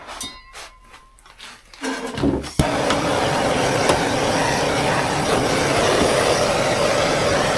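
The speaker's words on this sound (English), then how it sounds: "I'm going to try to heat it a little real quick with this torch, maybe from the backside" A handheld torch heats a metal part from the backside in a workshop during a Lamborghini drift car build. After a quiet start it ignites with a sharp pop, then holds a loud, steady roaring hiss to the end.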